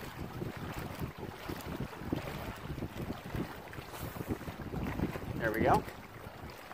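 Wind buffets the microphone while fishing from the water, a steady rushing gust noise with lapping water beneath; someone speaks briefly near the end.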